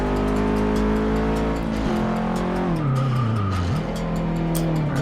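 Race car engine in Forza Motorsport 6 video game, loud and continuous, with revs falling and shifting as it brakes and downshifts for turns, a brief tire squeal near the end.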